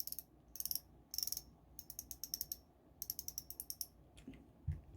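Dry rapid clicking from the drag of a 2023 Shimano Vanquish C3000XG spinning reel, coming in several separate bursts of ticking, close and crisp, with brief pauses between them and no voices.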